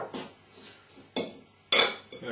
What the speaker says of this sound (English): Going to lob in our sugar.